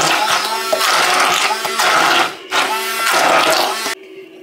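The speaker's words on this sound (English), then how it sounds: "we're going to use our little blender to blend it all up so it's like the sauce." Small kitchen blender whirring through a sour cream sauce in bursts, high steady motor whine with a short pause mid-way, then cutting off, close and loud.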